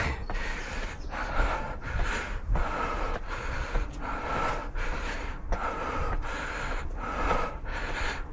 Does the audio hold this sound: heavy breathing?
yes